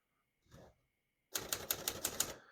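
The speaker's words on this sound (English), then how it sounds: "all the keys type nice and none of them skip or stick" A 1954 Olivetti Lettera 22 portable manual typewriter: one soft key strike, a pause, then a quick run of about seven crisp, evenly spaced typebar clacks, close and clear in a quiet room.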